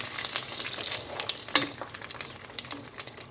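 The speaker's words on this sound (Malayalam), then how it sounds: "ഈ കാച്ചിയത് ഇതിലേക്ക് വെച്ച് കൊടുക്കുക" Hot tempering poured into a pot of chicken stew gives a steady crackling sizzle, with sharp spits and pops rising over a continuous frying hiss, close and fairly loud.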